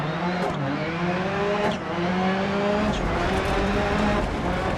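A rallycross car in DiRT Rally races with a loud sustained engine that climbs in pitch through repeated gear shifts, with faint tyre noise and no talk.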